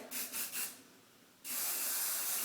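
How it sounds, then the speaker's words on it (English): Three short hairspray aerosol puffs hiss, then a long continuous spray rushes loudly, close by. "Go ahead and spray it."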